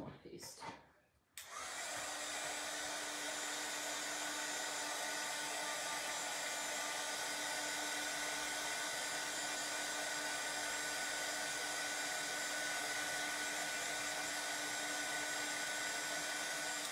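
A hair dryer drying wax paste starts after a brief clatter and then blows steadily at close range, a loud continuous whirring hiss that lasts to the end.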